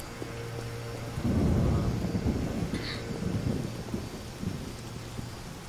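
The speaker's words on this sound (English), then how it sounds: "This time it's raining." Steady rain and rolling thunder from the fantasy video game The Witcher, with a loud thunder rumble swelling early on over a constant rain hiss that continues throughout, with no talking.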